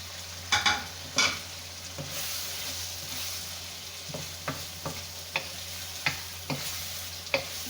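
Carrots and masala sizzle in a pan under a continuous hiss, while a utensil stirs them with sharp, irregular scrapes and clacks every half second or so, close up with no talking.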